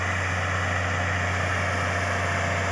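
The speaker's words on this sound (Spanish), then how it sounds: "TS6080 de 155 caballos, aplicando acolchado, una película de plástico aquí en unas camas para sembrar calabaza." A New Holland T6080 155 hp tractor laying plastic mulch film over beds for squash planting, its engine running with a steady low drone and constant hum, no talk.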